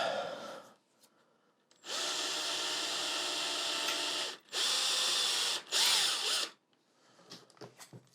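A power drill whirs loudly into wood in three sustained bursts, each a few seconds long, close by with brief pauses between, while building a semi-hollow electric guitar.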